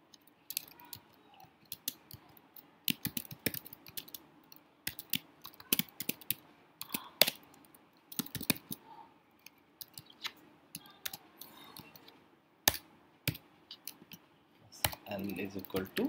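Computer keyboard being typed on while writing code, bursts of sharp close key clicks and taps in irregular runs with short pauses, fairly quiet throughout.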